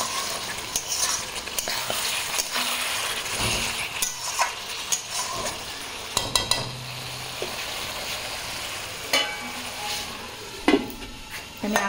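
Meat sautés in a pan in a home kitchen with a continuous sizzle, while scraping spoon strokes and occasional metallic clinks come and go close by.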